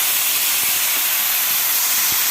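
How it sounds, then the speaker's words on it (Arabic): Washed rice sautéing in a pot for Egyptian koshari gives a steady, broad hissing sizzle throughout, with a few faint soft knocks underneath. "هبتدي اضيفه اشوحه"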